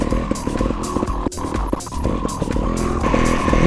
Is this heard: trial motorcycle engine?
yes